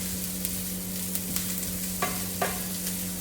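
Onion and curry leaves fry in a pan of vegetable korma masala with a steady, close sizzle and a low hum, while a spoon scrapes and stirs in a few brief clicks near the end. No one speaks.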